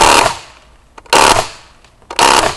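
Umarex Legends M1A1 airgun firing full auto, three loud, sharp bursts about a second apart, each a fast rattling string of shots that fades quickly, close and without talk.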